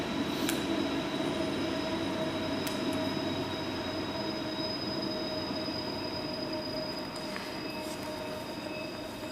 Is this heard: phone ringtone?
no